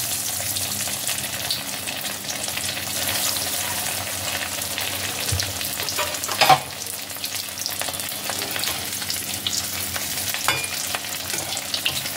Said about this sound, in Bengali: এবার আমি চপগুলো এক এক করে তেলে দিয়ে ভেজে নেব।